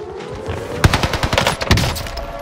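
Enemy bot opening fire in a video game, a run of rapid gunshots in short bursts, loud and close, over steady background game noise with no talk.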